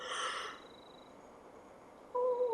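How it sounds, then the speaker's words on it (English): A person's breathy yawn, an airy exhale that opens the moment and fades out, followed by quiet and then a short tonal vocal sound at the end. "Sorry for that yawn."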